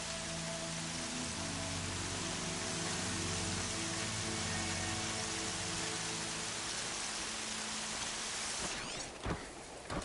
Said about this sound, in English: man, I can't hardly see with this rain